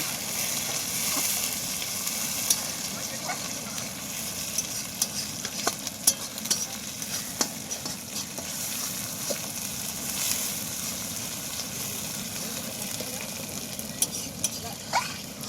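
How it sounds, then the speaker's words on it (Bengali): Tomato going into a pan of browned onions and frying, with a steady close sizzle and occasional stirring clicks, unaccompanied by any voice. "পেঁয়াজটা ভাজা হয়ে গেছে বাদামি বাদামি হয়ে গেছে এবার আমরা টমেটোটা দিয়ে দেবো"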